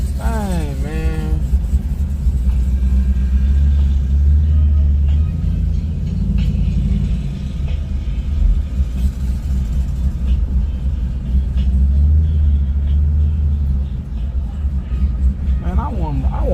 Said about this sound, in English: Oh, there go these G8s. There go Chevy.